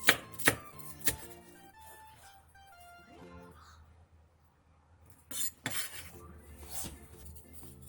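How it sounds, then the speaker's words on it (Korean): A knife slices leeks (large green onions) lengthwise on the diagonal for Korean water kimchi, giving a few sharp cutting knocks at the start and a second cluster of chops later, close and fairly quiet with no speech. "대파 4개를 길게 어슷썰게 해주세요."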